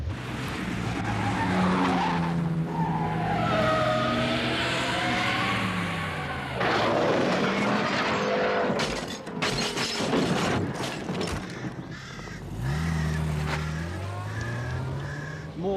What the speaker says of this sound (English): Some fool in a sports car just smashed into a tree.